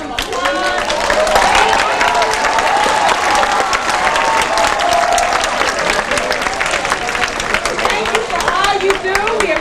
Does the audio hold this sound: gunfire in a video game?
no